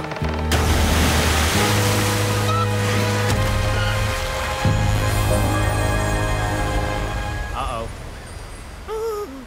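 Water gushes from a tap left open in an animated cartoon, a loud continuous rushing noise with a musical score playing underneath and a brief trailing squeak at the end.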